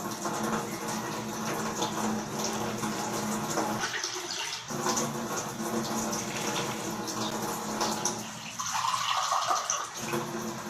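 Water is poured into a pan of melted butter while cooking buttered shrimp, a steady splashing, gurgling stream with a couple of brief changes in flow, close and fairly loud.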